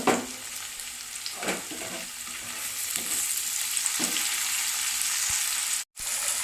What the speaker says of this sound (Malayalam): ഇനി നമുക്ക് നമ്മുടെ തക്കാളിയും പച്ചമുളകും കൂടി ഇട്ട് കൊടുക്കാം